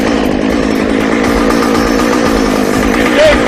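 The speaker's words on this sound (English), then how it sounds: "We'll fire up the saw." A chainsaw engine runs steadily at a constant drone, close and loud, as it powers a Lewis winch used to pull over a wheel-less van in a forest setting.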